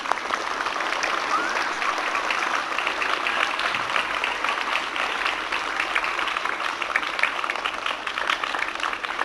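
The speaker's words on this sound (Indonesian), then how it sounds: "Beri tepuk tangan kepada pelaksana upacara." Students applaud at a school flag ceremony, sustained even clapping from a large group outdoors that holds steady for several seconds with little talk.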